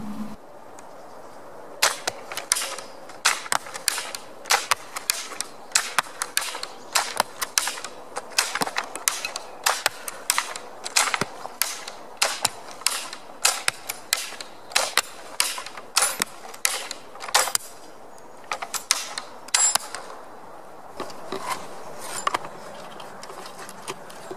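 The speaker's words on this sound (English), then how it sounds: "I'm going to shoot the double at two targets as quick as I can" A Chukonu Chinese repeating crossbow fires bolts at two targets as fast as possible, producing a long run of sharp snapping releases and thuds in quick, slightly irregular succession, close and loud.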